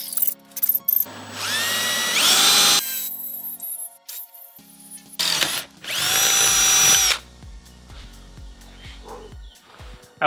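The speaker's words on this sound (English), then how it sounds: "So we gotta drill holes in here." A power drill bores holes into C-channel blocks on a jon boat being turned into a bass boat, giving two long, loud, close whining bursts with a rising pitch, then short clicks and handling noises between the runs.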